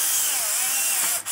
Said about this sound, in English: then you drill all the way through